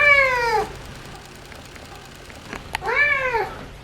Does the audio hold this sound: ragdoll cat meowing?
yes